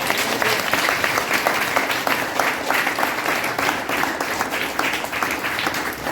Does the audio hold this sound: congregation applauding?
yes